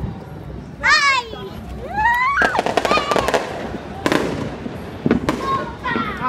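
New Year's Eve fireworks go off around a neighborhood: whistling rockets climb and scattered bangs and crackles sound at a distance, while children and adults talk nearby.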